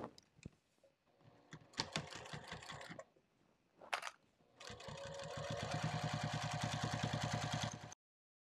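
A sewing machine stitches a sling bag, starting in short stop-start bursts of needle clatter and then running in one longer steady rhythmic run before stopping abruptly, with nobody talking.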